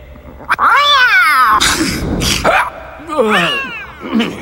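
A cat meows and caterwauls close by in several long, rising and falling cries with short pauses between them, loud and clear, with a brief snort-like sound near the start.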